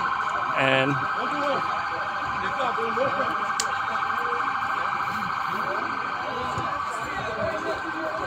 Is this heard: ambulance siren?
yes